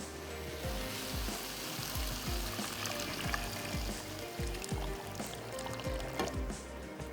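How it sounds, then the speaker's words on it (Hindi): Water poured into a pot of sautéed soup base with potatoes, a steady trickling stream over soft sizzling and clinking, moderately close, with no talk. "अब हम इसमें ऐड कर देते हैं पानी।"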